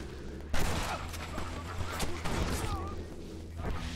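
Gunfire in the Western video game Red Dead Redemption: a sharp loud shot followed by a scattered volley of further cracks and impacts over four seconds, with faint voices in the background.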